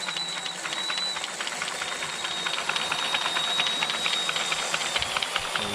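A Revell 1/4-scale model V8 engine without an oil pump runs steadily with a fast mechanical patter and a faint high whine, close up, no voices.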